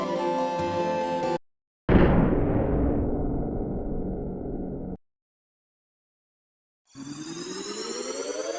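A cannon launch in the SNES game Secret of Mana: a loud sudden burst followed by a sustained rushing whoosh lasting about three seconds, framed by game music before and after, with a silent gap following the blast.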